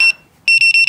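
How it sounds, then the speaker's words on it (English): A loud, high-pitched electronic alarm gives a short beep, pauses, then beeps rapidly four times in a steady pulse. "the alarm will go off"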